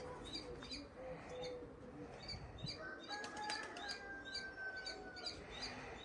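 Birds at a Lviv animal rescue shelter flutter their wings in short, repeated flapping bursts. Faint chirps and a thin whistle-like call run over a busy, low indoor background.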